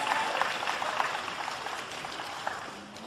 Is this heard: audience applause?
yes